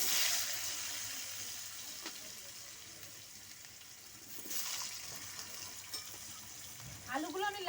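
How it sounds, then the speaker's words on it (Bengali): Potatoes frying in hot oil with whole cumin and a split dried chilli, a continuous sizzling hiss with a louder surge midway and faint clatter near the end. "আলুগুলো আমি লালচে করে ভেজে নেব।"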